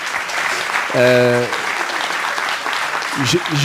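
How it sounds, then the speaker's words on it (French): Steady applause from an audience continues throughout, with a voice briefly speaking over the clapping. "Je crois qu'effectivement, on peut les applaudir."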